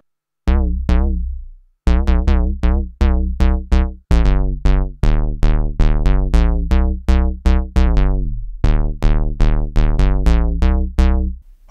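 A Roland MKS-80 Jupiter synthesizer fitted with a Retroaktiv MPG-8X programmer plays loud, clean plucky notes in a rhythmic sequence, each with a sharp attack and quick decay, heard alone with brief pauses.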